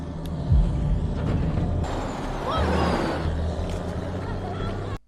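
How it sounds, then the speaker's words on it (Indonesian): A large truck pulls in with a deep engine rumble, and a sharp hiss of air brakes bursts out partway through over steady road noise. "Tak lama kemudian sebuah truk besar datang dengan membawa semua peralatan senjata."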